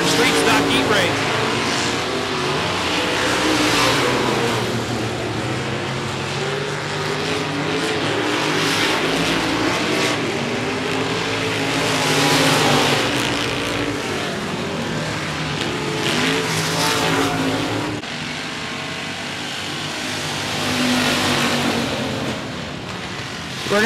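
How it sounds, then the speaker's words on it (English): Street stock race cars finish a heat race at 105 Speedway, engines droning in a steady roar that swells and fades as the pack circles, with an announcer calling the action over the PA. "Checkered flag, 17M of Jesse McNorton picking up your street stock heat race"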